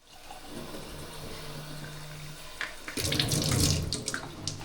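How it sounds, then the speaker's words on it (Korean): Tap water runs into a sink at a pilgrims' hostel in Zubiri on the Camino de Santiago, a steady close rush that turns louder and more splashy partway through as the flow strengthens. "오늘은 특별히 맛 좋은 싱크대 물을 준비해본다."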